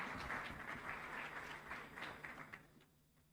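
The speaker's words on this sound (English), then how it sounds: "A huge round of applause, please" Applause from an audience at a ministerial report launch event, a steady wash of many hands clapping that holds evenly, then thins and fades toward the end, with no voices over it.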